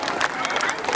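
An audience at a Moroccan African festival for the 2017 Throne Day applauds the Guinea-Bissau performers, a dense burst of crowd clapping and cheering that is loud and close, with voices mixed in.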